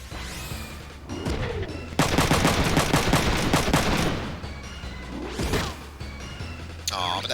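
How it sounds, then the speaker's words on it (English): Shotgun blasts from a mech in Front Mission 3 boom out in repeated loud, dense bursts, a heavy volley in the middle section, with sweeping game effects around them. "Another shotgun blast there."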